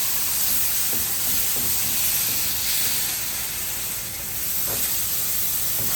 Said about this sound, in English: gradually add 3/4 cup of milk